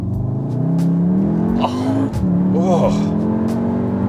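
A 2022 Volkswagen Tiguan R in race mode revs hard as it drops gears, the engine note climbing, dipping sharply at a shift, then rising again, loud and close, with a man exclaiming over it.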